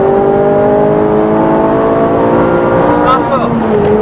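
A Ferrari 458 Italia accelerates flat out at full throttle, its engine loud and close as a steady, high, rising howl that climbs in pitch through the revs, heard from inside the car.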